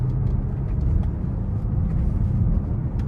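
Low, steady rumble of a BMW X5 xDrive 50i V8 engine cruising slowly through a suburban street, a continuous deep burble with no talking over it.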